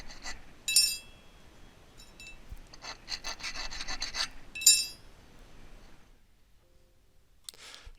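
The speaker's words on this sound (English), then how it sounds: "And then just smoothed it a bit with a file." A hand file smooths the hacksaw-cut ends of cinched cable ties on a boom vang strap on an American Sail 14.6 sailboat. Quiet rasping strokes come in short irregular bursts with an occasional light clink, then fall silent.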